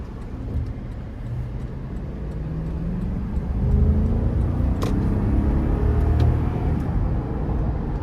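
A 2017 Toyota Land Cruiser with the 5.7 V8 in manual shift mode pulls out of a corner, its deep engine rumble swelling steadily as it accelerates, heard from inside the cabin.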